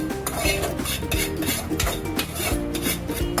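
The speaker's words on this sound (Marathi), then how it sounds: "मोठी दोन चमचे कसकस घेतलेली ती टाकत आहोत आणि थोडी भाजून घेतो आपण" Two spoonfuls of poppy seeds roasting in a dry pan while a metal spoon stirs and scrapes against the pan, giving busy close clinks and rasping strokes in quick succession with no talking.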